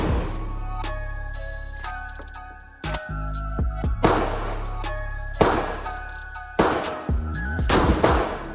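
A pump shotgun fitted with a red dot sight fires several loud, sharp blasts outdoors, spaced a second or two apart, each with a ringing tail.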